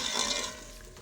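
Achar gosht meat with Kashmiri red chilli, turmeric and achar gosht masala being fried in a pan, a short close sizzle and stir that fades slightly.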